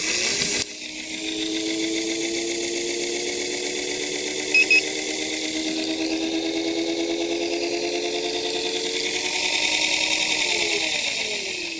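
Electric motor of a Xiaomi Mi Pro 2 scooter with a battery fault, revved under throttle: a steady high whine with tones that rise and hold close by, ending in a short swell before easing off.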